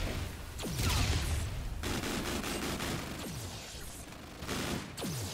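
Zombie-shooting gunfire in the video game Attack of the Radioactive Thing, bursts of rapid shots and echoing blasts at moderate loudness with short gaps, no talking.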